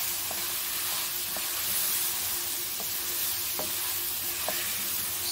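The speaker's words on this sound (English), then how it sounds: "I'm going to add all the courgettes to it. There we go. And just give it a good stir." Fresh, soft courgettes sizzling steadily with spices in a pan, a constant close hiss broken by a handful of light scrapes of stirring spread across the few seconds, no voices.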